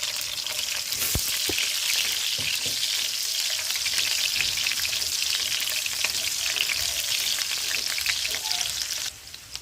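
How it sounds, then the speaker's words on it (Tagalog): Garlic and onion fry in hot cooking oil with a dense, continuous crackling sizzle like heavy rain, plus a few sharp pops and clinks. The sound holds steady and close throughout, easing off just at the end. "Dahil mainit na po ang ating mantika, lalagay na po natin ang ating bawang. Lalagay na rin po natin ang ating sibuyas."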